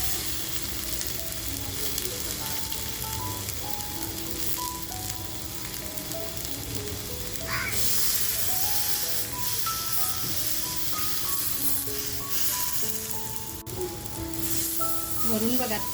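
Tiger prawns laid on a buttered tandoor sizzle steadily and loudly throughout, with a constant frying hiss and bright crackle beneath a faint musical backdrop, close and continuous.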